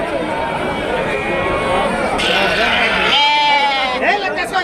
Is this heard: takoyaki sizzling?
no